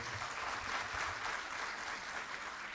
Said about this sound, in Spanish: Un aplauso para nuestra expositora.